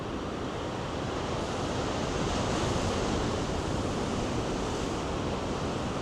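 Steady roar of ocean surf at Cape Spear, Newfoundland, continuous broadband wash of big waves breaking on shore with some wind noise, no voices.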